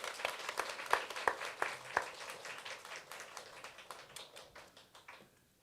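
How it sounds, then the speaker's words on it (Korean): Applause from a congregation at a Sunday afternoon church service welcomes a preacher, opening with sharp, distinct claps that thin out and fade to quiet over a few seconds. "우리 박수로 모시도록 하겠습니다"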